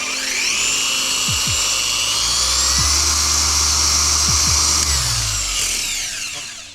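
A Rupes dual action car polisher runs steadily with a loud, high whirring drone that holds for several seconds, close up and alone, with brief low thumps as it settles on the paint before winding down.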